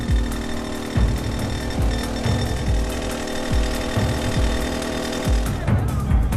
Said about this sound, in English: The claw holds the boulder steady, and workers drill straight into its center.